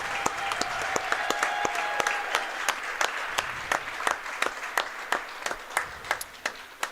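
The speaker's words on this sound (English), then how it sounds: "Please, a round of applause for Miss Hallie Elbers." Audience applause fills a gym honoring a senior player at a Pennsylvania high school girls basketball game, a dense wash of clapping that thins toward the end into scattered, distinct claps.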